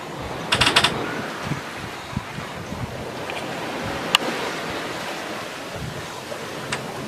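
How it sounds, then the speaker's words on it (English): Wind rushing and ocean waves washing steadily around a sailboat under way, with a brief clatter early on and a few faint knocks. "The wind picked up. We've had a good sail."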